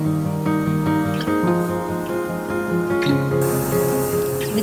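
An airbrush sprays a smooth base coat of paint onto a model before a silver layer, giving a close, continuous hiss over a steady tonal hum that never breaks.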